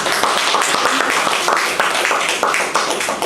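A seminar audience claps together in a dense, steady burst of applause that holds evenly for a few seconds with no talk above it.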